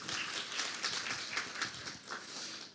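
Audience applause at a Korean high-performance computing forum in a hotel conference hall, a steady broadband patter of many hands clapping for a few seconds with no voices.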